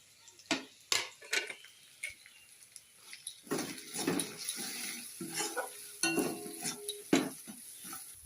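Ground spices go into hot oil in a pan for a duck egg and potato curry, crackling softly while a spoon stirs and scrapes in irregular bursts, close and fairly quiet.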